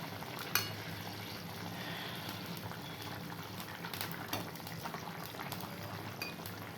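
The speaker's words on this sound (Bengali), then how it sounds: "এই যে বন্ধুরা, টপ টপ করে ফুটছে দেখেছো" Curry boiling in a pot on a stove, a soft steady bubbling with small pops and occasional sharper blips, fairly quiet and close, with no one speaking.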